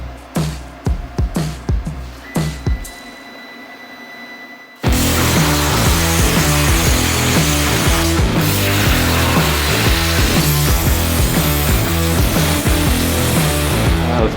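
A CNC machine cuts out a mild steel part for a new mount: a few sharp knocks and a steady tone at first, then a loud, continuous, dense cutting roar with a rapid rhythmic pulse carries on without pause.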